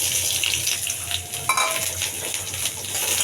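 Onion frying in a pan, with a loud, continuous hiss and crackle of hot oil and a few stirring scrapes, close up and steady through the clip.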